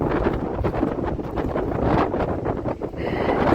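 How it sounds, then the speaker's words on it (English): Strong wind buffets the microphone on a walking route through Albufeira, Portugal, a steady loud roar with gusty surges throughout and no voices. "It's really windy here"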